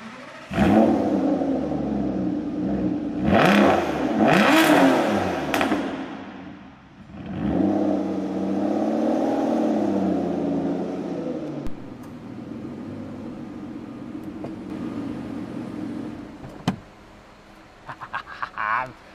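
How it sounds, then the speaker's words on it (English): An Aston Martin V12 engine starting and revving: a loud, deep roar with several rising and falling rev blips early on, then settling into a lower steady idle rumble, close by, with some talking over it. "see what this V12 sounds like"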